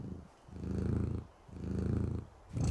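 Loud, close cat purring from the video game Calico, a steady rumbling drone in long, swelling cycles that dip briefly between breaths, with no voices over it.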